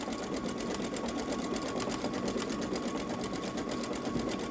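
A Babylock Solaris Vision sewing machine couches yarn at about 500 stitches per minute, making a continuous rapid, even needle rattle and motor hum at close range, with no talking.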